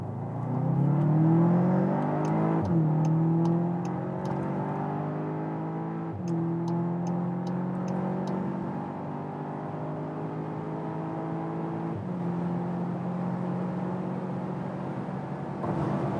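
A 320 hp all-wheel-drive Volkswagen Arteon R accelerates hard onto the motorway from about 30 km/h, engine note climbing through several upshifts with clear rising harmonics, heard from inside the cabin.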